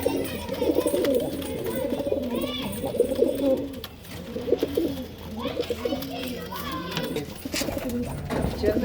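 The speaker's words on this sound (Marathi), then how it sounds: "कबूतर बघू शकता सगळे आंध्रा लाईनचे कबूतर आहेत." Andhra line pigeons coo in soft, repeated rolling calls, close by and continuous, while someone talks over them throughout.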